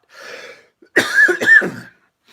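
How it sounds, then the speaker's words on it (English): A faint breath followed by a short, dry cough in two or three harsh bursts, close up, with silence around it. "Now I got to cough again."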